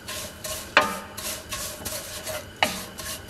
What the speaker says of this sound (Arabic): راح أضيف الشعرية وراح أقليها إلى أن يحمر لونها